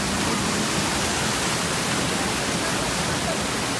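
Mandavkada waterfall roars with a big gush of water, a steady, loud, dense rush filling the whole clip without any break or voices.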